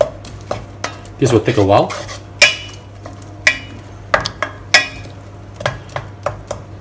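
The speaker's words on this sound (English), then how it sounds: "Mix them up together. And we'll fry them until they are dry." Curry spice mixture fries in a pan while a utensil stirs and scrapes, giving repeated sharp clinks and taps over a soft sizzle, with a short spoken remark partway through.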